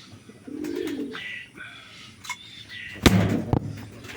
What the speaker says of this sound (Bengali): এটা একটা নর কবুতর এটার মাদি কিন্তু রেড